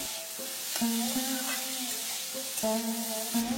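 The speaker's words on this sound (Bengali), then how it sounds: "আমি আলুগুলোকে লো মিডিয়াম আঁচে 2-3 মিনিট একটু ভেজে নেব।" Potatoes frying in oil over low-medium heat, a gentle sizzle under intermittent scraping stir strokes against the pan, close up and without talk.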